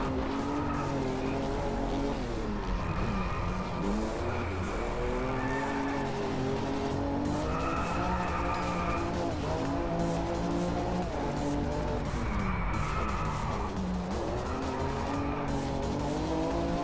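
A futuristic space car from the Driveclub racing game drives continuously, its engine note rising and falling through gear changes with tire squeal and skidding, loud and unbroken throughout.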